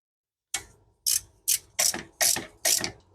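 A hand ratchet tightens bolts on a 2006-2013 Chevy Impala wheel hub, producing six sharp bursts of close, crisp clicking separated by short pauses after a moment of silence.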